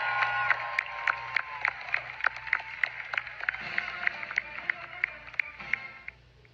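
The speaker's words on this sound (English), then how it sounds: "The applause is strangely timed, and then it just randomly stops." An audience applauds after a Fourth of July speech, with a sustained wash of clapping punctuated by sharp, regularly spaced claps, then cutting off abruptly at the end.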